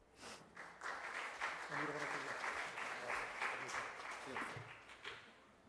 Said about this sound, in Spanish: lo recibimos con fuertes palmas